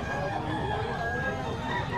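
A rooster crows amid clucking fowl at a poultry sale, with a steady murmur of background noise around the birds.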